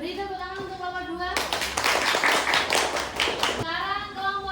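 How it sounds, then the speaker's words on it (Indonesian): Classmates clap for group 2 in a classroom lesson, a loud burst of brisk, close clapping lasting about two seconds, set between stretches of children's voices talking before and after. "Beri tepuk tangan untuk kelompok 2."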